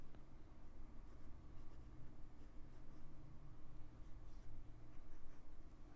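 A dull pencil drawing on paper during an art lesson, a steady close scratching of graphite strokes with short rhythmic bursts, quiet, and no talking.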